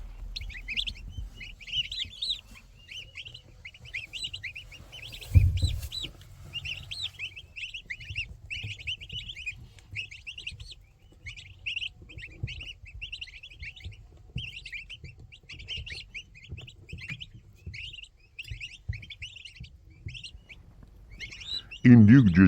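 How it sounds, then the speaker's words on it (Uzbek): Day-old turkey chicks peep constantly in rapid, overlapping high chirps, as from a large group close by. A low rumble of handling noise sits underneath, with a brief louder thump midway and another at the end. "Bir kunlik indyuk jo'jalari 200 tagacha tayyorlab berilishi mumkin."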